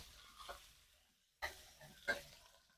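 Ginger sautéing in a pan for dinuguan gives a few brief sizzling bursts with stirring, faint and close, separated by quiet gaps.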